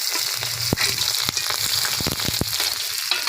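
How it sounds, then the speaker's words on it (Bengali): Cumin seeds and chopped chili dropped into hot oil in a home kitchen sizzle steadily and close by. A few sharp crackles and pops break through the frying hiss, and no one speaks. "এই যে ফুরনে জিরা দিলাম ফুরনে জিরা কুচিটা আর লঙ্কা কুচিটা দিয়ে দিলাম"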